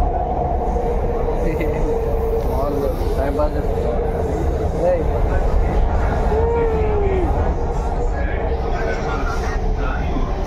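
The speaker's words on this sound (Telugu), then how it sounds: "ఇది మెట్రో, అండర్ గ్రౌండ్ మెట్రో." A steady, heavy rumble from an underground metro train in motion, with someone talking over the noise.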